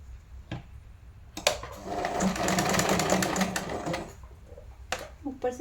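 A sewing machine stitching lehenga fabric for a child's lehenga choli, a steady fast mechanical whir running for a couple of seconds between brief starts and stops, close, with faint handling sounds around it.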